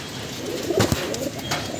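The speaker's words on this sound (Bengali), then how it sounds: "এই দেখুন এটা মাদি পায়রা।" A female pigeon gives a short, soft, low coo close by, a brief throaty burst in the middle with faint rustling around it.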